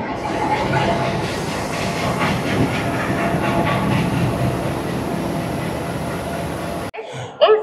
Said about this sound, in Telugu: అట్ లాస్ట్ మా ట్రైన్ అయితే తీసుకొస్తున్నారు ప్లాట్ఫామ్ మీదకి